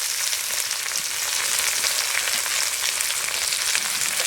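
Tomatoes and ginger-garlic paste fry in hot oil for a fish curry, giving a steady, dense, close sizzle that holds evenly throughout with no talking.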